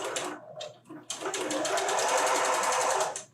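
A sewing machine quilting fabric with a quarter-inch foot, starting with a few short bursts of stitching and then running in a steady, fast, close whir that stops abruptly.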